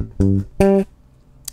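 Bass guitar lick with raked ghost notes, two short plucked low notes with a faint muted click after them, close and clear with no talk.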